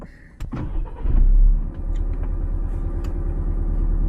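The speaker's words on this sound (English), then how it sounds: "Let's restart the truck." A 2024 Toyota Tacoma truck door clunks, then the engine cranks and catches, settling into a steady low idle that continues to the end.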